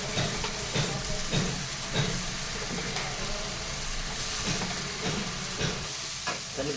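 Ginger garlic paste, about one and a half spoons, sizzling steadily in hot oil while frying, with repeated scraping stirs of a spoon in the pan.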